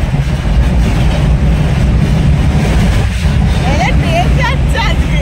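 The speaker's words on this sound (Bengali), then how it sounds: "ট্রেন যাচ্ছে আজকে।" A train passes along a rail line near a family outing, a steady loud rumble and clatter filling the scene while people talk over it and a few bird calls rise near the end.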